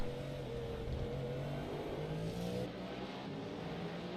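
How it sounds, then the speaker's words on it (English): Cadillac hypercar V8 in the iRacing sim racing game at Portimão, revving loud and steady with rising and falling pitch as it accelerates, heard alone without commentary. "And that engine has a whole different sound to it. That's American V8 power right there."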